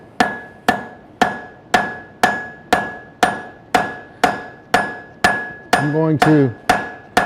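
A forging hammer strikes hot metal in an even rhythm, about a dozen sharp ringing blows close by, one pause filled by a brief voice.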